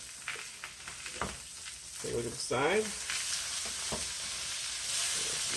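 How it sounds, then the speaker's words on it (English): Steady, close sizzling of steak frying in a pan, a continuous crackling hiss, with a brief spoken remark and a clatter partway through. "Very nice sizzling my steak."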